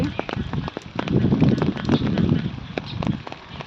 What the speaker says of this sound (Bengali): এখনো গুড়ি গুড়ি বৃষ্টি পড়ছে